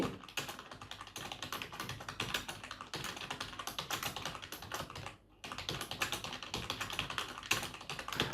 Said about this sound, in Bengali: এখন আমি এখানে টাইপ করছি